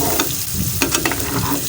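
Potatoes and arbi (taro) fry in a pan with a steady sizzle, broken by a few scraping stir strokes, close and fairly loud, with no talking.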